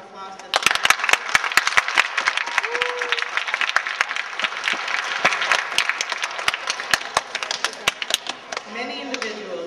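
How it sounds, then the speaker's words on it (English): An audience at an elementary school Martin Luther King Jr. celebration claps for about nine seconds, a crowd of sharp, uneven hand claps that fade into scattered claps at the end, with a brief voice near the close. "Can we have one more round of applause?"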